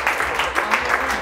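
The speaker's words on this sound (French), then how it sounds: "On peut applaudir s'il vous plaît." A small audience applauds at a French hypnosis show, a steady close patter of clapping that swells and dips in short waves.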